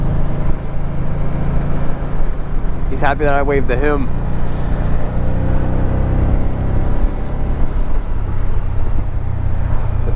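A 2012 Can-Am RT-S Spyder three-wheeler riding on a road, a steady loud engine drone with wind and road rumble throughout, while a rider talks briefly over it.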